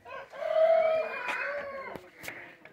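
A hen on her nest in a farmyard gives a drawn-out, throaty cluck followed by a few shorter clucks, fairly close and moderately quiet.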